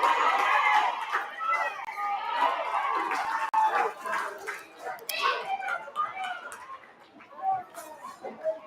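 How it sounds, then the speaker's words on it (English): Crowd at a women's basketball game between Burdekin Delta Dolphins Ladies and Azi Memorial Ladies, a steady blend of chatter and murmuring voices filling an indoor court, swelling and easing over several seconds. "you can hear the crowd getting into this one"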